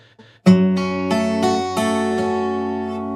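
Strings of a 12-string guitar are picked one after another into a bright, shimmering chord that rings out.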